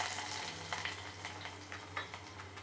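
Two small sliced onions go into hot oil with popped mustard seeds, crackling and sizzling steadily up close with a few sharper pops along the way, and nobody talks.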